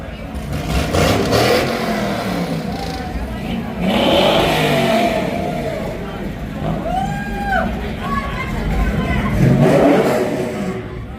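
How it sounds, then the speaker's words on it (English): A truck engine revs hard in surging waves during a burnout competition at the Topsham Fair, with crowd chatter and voices running underneath. "Here comes a water truck. I don't know how much burnout he can do."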